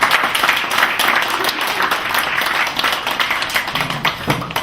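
Warm, dense applause from the audience at a poetry book launch, a Korean-Russian bilingual collection, carrying on loudly and steadily throughout with close, overlapping claps.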